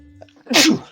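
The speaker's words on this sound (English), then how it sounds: "You're going to end up with seeing that little sneeze there" A single sharp human sneeze, close and loud, with a short breathy intake before the burst.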